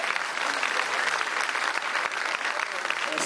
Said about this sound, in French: On applaudit pour le prêtre.